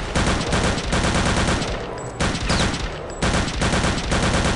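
Dense, loud automatic gunfire from a World War II shooter game, Return to Castle Wolfenstein, roaring almost continuously in long bursts with two brief lulls, nearby and dominating the mix.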